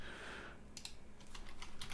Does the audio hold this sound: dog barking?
no